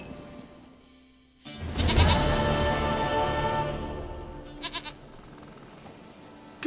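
A goat in the Witcher 3 video game lets out a long, loud, wavering bleat close by, following a brief quieter lead-in.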